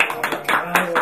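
A child claps hands in a quick, steady series of about five claps, close and fairly loud, with people talking and singing along over it.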